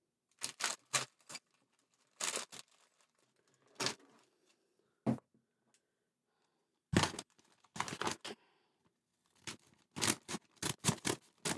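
Scissors snip and cut through packaging in scattered bursts of sharp crisp clicks and crinkles, a few quick cuts grouped together with quiet pauses between them, close and alone.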